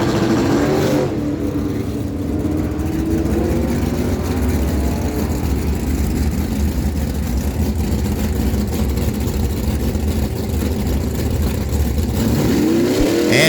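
A 1993 Ford Mustang and a 2000 Chevrolet Camaro make a drag strip run, loud engines roaring and revving hard close by, with rising pitch sweeps as they accelerate down the track.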